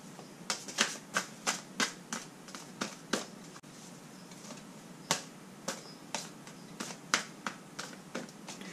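Tarot cards handled and laid out on a table, giving a run of crisp snapping flicks and light slaps at an uneven pace, close and quiet with a brief pause midway.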